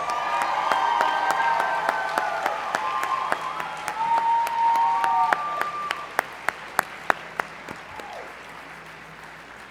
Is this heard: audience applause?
yes